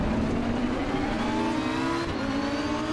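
Lamborghini race car in Assetto Corsa Competizione at Paul Ricard, its engine loud and close, revving steadily upward with a brief dip as it shifts, then pulling on.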